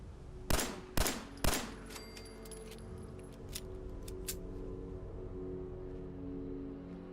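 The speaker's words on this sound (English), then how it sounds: "his shotgun sounded like a rocket launcher" Three heavy shotgun blasts from a raider in Fallout 4 come in quick, evenly spaced succession, each loud and booming, followed by fainter scattered metallic clinks and distant shots over a low background hum.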